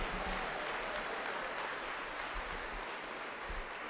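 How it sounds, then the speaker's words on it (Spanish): A church congregation applauds in praise of Christ Jesus during a Spanish-language service, dense sustained clapping filling the room at an even level throughout. "Aplauso para Cristo Jesús."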